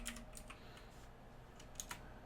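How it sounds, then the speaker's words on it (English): Faint, quick keystrokes on a computer keyboard, a steady patter of key clicks with a couple of slightly sharper taps near the end. "let's type in dragons"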